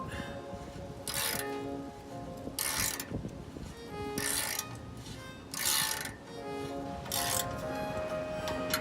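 A V-band exhaust clamp is being tightened on long tube headers, giving a close series of short ratcheting clicks in bursts, with brief pauses between them.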